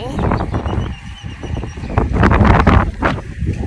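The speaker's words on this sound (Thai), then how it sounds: "วันนี้รู้สึกว่ามีลมหนาวๆค่ะ แล้วลมก็แรงมากเลยค่ะ" Strong, cold wind buffets the microphone during a bicycle ride, a loud continuous low rumble with gusts that swell and fade throughout.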